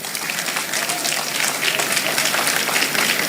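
An audience applauds at a graduation and prize-giving ceremony at a college in Abuja, many hands clapping in a dense, sustained roar that swells slightly toward the end.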